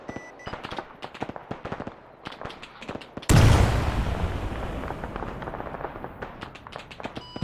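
An A-10 Warthog gun run in a military video game: a sudden loud roaring burst of rapid cannon fire that decays into a long rumble, following scattered clicks and radio-like chatter.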